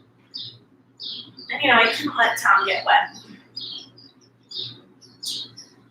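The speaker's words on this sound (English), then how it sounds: "I can still hear the birds chirping." Birds chirping outside through an open sliding glass door, short repeated tweets scattered throughout, with a person talking over them in the middle.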